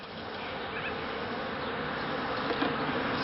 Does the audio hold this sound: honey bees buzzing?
yes